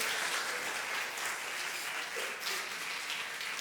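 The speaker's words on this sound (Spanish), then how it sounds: "vamos a darles un aplauso a los dos" A church congregation claps for two participants, producing a dense, even wash of applause that continues steadily and fairly softly from start to finish, with no talk over it.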